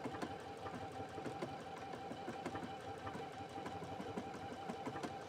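Close and continuous, a sewing machine runs steadily sewing a decorative leaf stitch on a quilt block pillow, its rapid rhythmic needle chatter holding an even level throughout with no talking.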